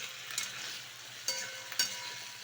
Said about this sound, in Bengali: তো প্রথমে কড়াইতে তেল দিয়ে শুকনো লঙ্কা দিয়ে পুঁই শাকটা আমি দিয়ে দিচ্ছি।